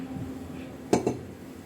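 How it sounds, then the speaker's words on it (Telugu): A metal pot set down on a kitchen stove makes two quick clanking knocks, close and fairly clear, over a low background hum. "స్టవ్ పైన ఒక గిన్నె పెట్టుకుని స్టవ్ వెలిగించుకుని"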